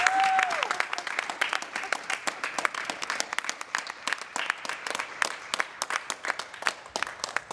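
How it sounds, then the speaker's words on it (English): Scattered audience applause for a woman, many separate claps at varied rhythm, fairly close and moderately loud, with a brief tonal sound at the very start and some voices faintly underneath. "Can we clap for her?"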